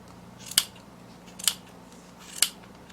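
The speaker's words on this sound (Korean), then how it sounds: "잘 드는 가위로 이 사이를 다 이렇게 잘라주셔야 돼요" Three crisp snips of sharp scissors cutting knitting yarn on a bamboo-pattern knit hat, evenly spaced about a second apart, close and clear over a quiet background.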